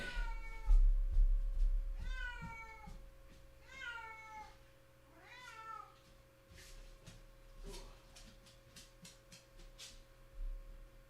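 A pet cat, a small disabled male, meows repeatedly up close in a quiet room, four or five drawn-out cries in the first half followed by softer thumps and rustling.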